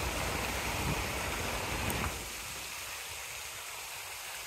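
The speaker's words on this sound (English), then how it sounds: "I love water features." Water feature fountain in First Ward Park, a loud rushing splash of falling water that cuts to a quieter, steadier wash about halfway through, heard up close.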